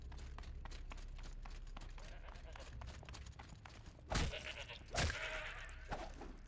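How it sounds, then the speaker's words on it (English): A goat bleats in Horizon Zero Dawn as it runs out of nowhere inside a cave, a few short cries standing out near the end over a steady low game ambience, with no talk. "Very weird to see a goat just kind of running out of nowhere in the cave."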